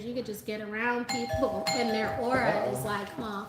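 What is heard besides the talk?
doorbell ringing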